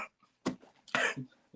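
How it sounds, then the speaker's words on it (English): A person coughs several times in sharp, loud bursts with short pauses between them, close to the microphone and with no talk over them. "because you kept coughing"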